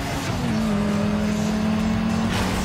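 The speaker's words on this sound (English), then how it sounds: "it's a GTO!" A Pontiac GTO races past in the street-racing video game Need for Speed Underground 2, its engine holding a steady, sustained drone throughout with no clear talk over it.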